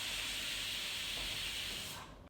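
A pressure cooker on a medium flame, cooking potato and onion curry, lets out a loud, steady steam hiss for about two seconds before it cuts off abruptly.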